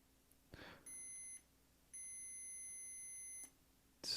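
An Echo Dot Gen 3 smart speaker gives a short tonal beep and then a longer steady one, faint and clean, with a brief click between them and another at the end.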